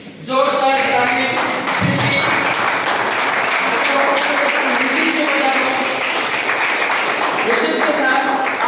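Loud, sustained audience applause fills a seminar hall, with steady clapping from many hands running throughout and a few voices mixed in.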